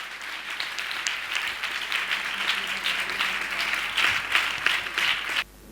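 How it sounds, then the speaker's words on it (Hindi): A church congregation at a Sunday service claps together in praise of God, a dense, sustained burst of many hands applauding close by for about five seconds before stopping abruptly. "एक बार ताली बजा के खुदा की महिमा करें।"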